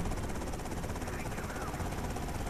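Helicopter in the GTA Vice City video game, a steady, loud rotor drone that fills the whole stretch without letup, with game sounds mixed in.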